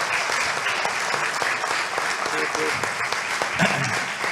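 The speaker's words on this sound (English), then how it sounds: "Let's first start with even a little bit more applause for, let's start with Professor Dershowitz" An audience at a men's club debate event applauds Professor Dershowitz, a loud, dense and continuous wash of clapping from many people that fills the whole moment, with a voice briefly heard through it.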